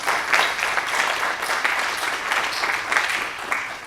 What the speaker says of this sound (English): let's give Creator a round of applause